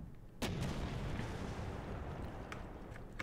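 Gun fired on command during a British Army troop training exercise on the move: one sharp, loud blast followed by sustained rumbling, then a few faint distant reports near the end, with no talk.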